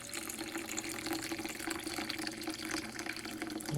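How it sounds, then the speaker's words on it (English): Preheated water is poured into the metal tank of a LifeBasis ultrasonic cleaner, giving a steady, close splashing flow like a running tap that lasts throughout. "We'll put some water in. I have preheated this water."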